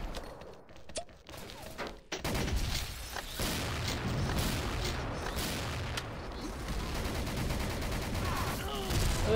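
Video-game gunfire in the shooter XSHOT: dense bursts of rapid shots and booms. After a sparse, quieter start with a few isolated cracks, the volleys become continuous and loud, with faint talk underneath.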